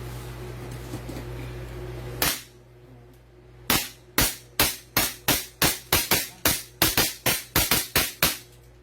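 A toy pistol fires one sharp snap, then after a pause a rapid string of about a dozen loud, close cracks follows in quick, fairly regular succession over a low steady hum.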